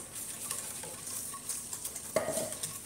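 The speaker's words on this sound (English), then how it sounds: "I'm going to whisk everything together." Vegan French toast batter with plant milk and a little sugar being whisked in a bowl, a steady brisk stirring scrape with small clinks, close and fairly quiet, with no talking.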